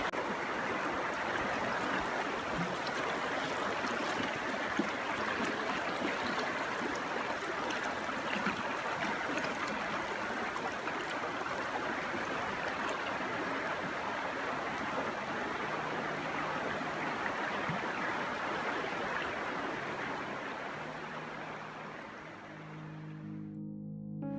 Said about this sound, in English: listened to the sound of the rushing river